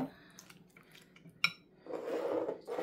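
Metal spoon stirring ground meat soup in a pot, with soft scrapes and one sharp clink against the rim, then a longer sloshing stir swelling toward the end.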